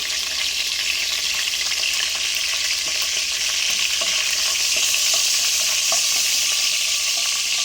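Whole spices such as bay leaf and cardamom frying in hot oil for an egg drop gravy, a loud, continuous bright sizzle with faint crackles throughout and no speech.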